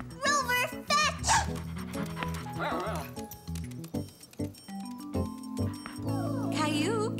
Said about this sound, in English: Grandma was babysitting Caillou's favorite dog, Rover